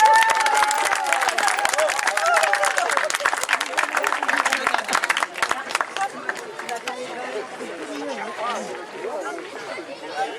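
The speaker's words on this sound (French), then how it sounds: "On applaudit bien fort." A street theatre audience claps loudly and densely for about five seconds, then the applause thins into scattered claps beneath lively crowd chatter and nearby voices.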